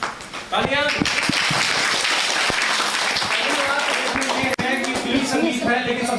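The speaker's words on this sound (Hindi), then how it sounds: "गुड, तालियां" Students at an antakshari singing contest break into steady applause that fills the room, continuous and fairly loud throughout, with voices and chatter mixed in underneath.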